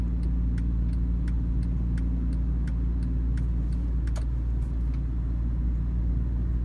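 Loud, steady low engine rumble from a Honda Civic with no muffler, droning continuously with a harsh, unmuffled growl and occasional faint ticks above it.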